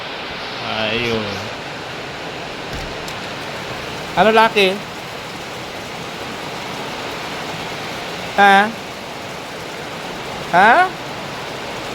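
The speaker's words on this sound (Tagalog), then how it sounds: "lalong lumakas ang ulan." Heavy rain pours steadily onto a hut, a dense constant hiss filling the whole scene, with brief voices speaking over it at a few moments.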